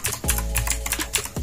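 Rapid mechanical key presses on a Cooler Master CK530 V2 gaming keyboard during a key test, a steady close clatter of clicks with a few louder strikes, alone without speech.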